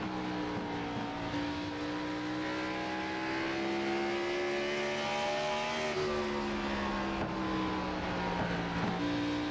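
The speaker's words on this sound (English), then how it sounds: "So cool to listen to that throttle, just like the real thing." A stock race car engine in the iRacing sim at Bristol Motor Speedway drones loudly and continuously, its throttle note climbing gradually, then dipping and rising again as the car circles the short oval; no talking.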